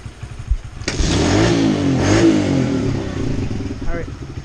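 A motorbike broken down in the woods starts up and revs, rising to a loud mid-pitched roar that holds and then eases back to a rough idle. Voices are heard around it.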